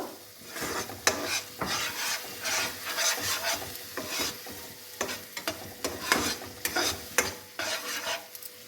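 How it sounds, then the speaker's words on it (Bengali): Rohu fish korma masala is stirred and sautéed in a pan with a little water, giving rhythmic scraping strokes over a low sizzle, close and moderately quiet with no voices. "এটা আমি অল্প একটু একটু জল দিচ্ছি ভালো করে কষিয়ে নেব"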